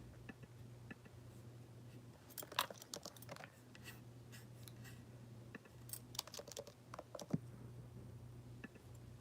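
Someone types on a computer keyboard during a live stream, producing quiet, irregular clicks and short bursts of keystrokes over a low steady hum, with no speech.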